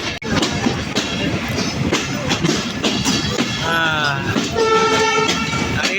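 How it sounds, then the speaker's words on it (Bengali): An EMD diesel locomotive at the Rajshahi washpit gives off a loud, steady mechanical rumble up close. Drawn-out tonal notes like a horn or whistle rise over it near the end. "আর এই হচ্ছে ইএমডি লোকোমোটিভ"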